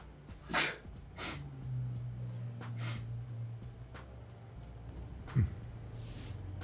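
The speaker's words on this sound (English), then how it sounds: "I totally sneezed, and I hope I muted that in time" A person sneezes once, a short sharp burst near the start, followed by a low steady hum and a second brief snort-like sound near the end, fairly faint overall.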